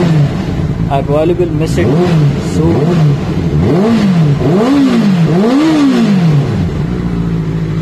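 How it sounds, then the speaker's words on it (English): Benelli TNT 600i motorcycle engine idling and blipping at close range, with several rising and falling revs over a steady idle, while someone talks over it. "the bike was running. So yes, it's running all fine now. And that's the sweet noise."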